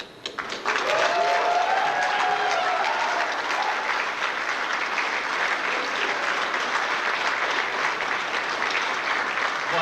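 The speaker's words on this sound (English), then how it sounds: "One more round of applause for Yellow." Convention audience breaking into loud, sustained applause that swells after a brief voice at the start and holds steady, dense clapping with a few cheers throughout.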